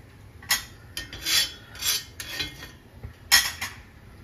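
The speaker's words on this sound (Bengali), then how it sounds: "জ্বালিয়ে তাওয়াটা বসিয়ে দিলাম।" A metal tawa griddle set onto a lit gas stove while making suji chilla, giving a series of short metallic clanks and scrapes, close and fairly crisp, with no talking.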